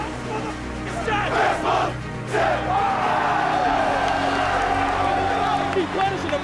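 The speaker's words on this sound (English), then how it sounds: "the Duke faithful making as much noise as they can here at Bank of America Stadium" Duke football fans roar in a packed Bank of America Stadium during the ACC Championship, a dense, continuous crowd din with chants and shouts, loud and steady throughout.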